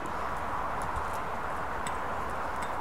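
A horse cantering during a riding lesson, its hooves giving a steady clip-clop beneath a broad, constant background hiss.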